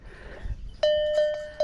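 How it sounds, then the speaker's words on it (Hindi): Small metal bells tied to an old tree at a shrine ring out in three bright, clear strikes, each leaving a sustained ringing tone, close by after a moment of quiet outdoor murmur. "ये बजाते हैं लोग इन घंटियों को?"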